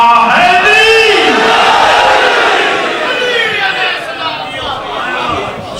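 A majlis crowd roars the Naara-e-Haidari slogan in unison, many loud, close voices in a sustained shout that swells and then slowly fades.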